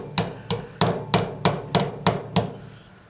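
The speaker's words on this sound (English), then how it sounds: "I'm going to tap it down a little bit with" The peen side of a hammer taps metal tubing while a solderless jewelry bead is shaped, giving eight crisp, evenly spaced strikes close by with no talk.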